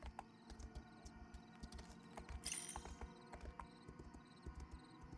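Rhythmic clip-clop of horse hooves on a mount in an online role-playing game zone, steady repeated footfalls at moderate volume with a brief brighter burst midway, no talk over it.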